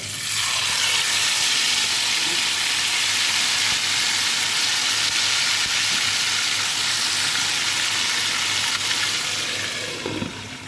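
Chicken pieces fry in hot oil in a pan, a loud, steady sizzle running close and unbroken for about ten seconds, easing slightly near the end.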